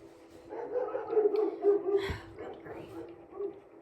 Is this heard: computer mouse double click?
no